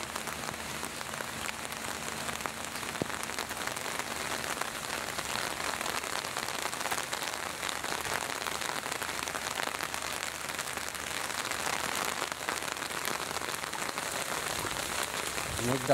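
Steady rain pours onto a rooftop garden, a dense, even hiss of drops on plants and surfaces that holds at the same level throughout with no break.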